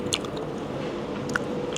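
Close, moist chewing of smoked beef with soft crunches and squishy bites, a few sharper crackles standing out against a steady low background.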